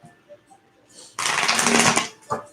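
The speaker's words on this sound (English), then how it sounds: "I'm just shuffling randomly." A tarot deck is shuffled by hand, close up, in one dense riffling burst of crisp card flutter lasting under a second, with quiet background sounds before and after.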